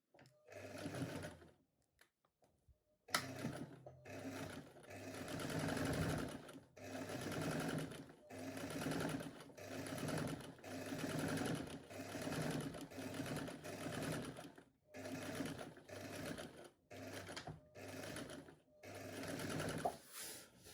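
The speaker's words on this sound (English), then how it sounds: "we're going to take that to our sewing machine and join using a lock stitch or a straight stitch to join both fabrics together" A sewing machine running a straight lock stitch to join two fabric pieces for a French seam, its rapid mechanical whir in repeated bursts with short pauses between, close and alone.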